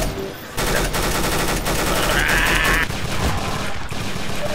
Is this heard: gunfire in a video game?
yes